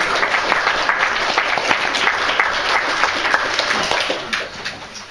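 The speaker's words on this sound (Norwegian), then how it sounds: "Og vi får litt applaus for disse sangene." Audience applause after songs at a live music performance, dense and sustained clapping that fills the room and then begins to thin out toward the end.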